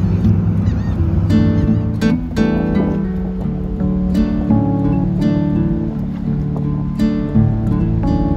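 Waterfowl honk and call repeatedly at a waterfront park on the Texas coast, close and fairly loud over a steady background murmur, with no talking.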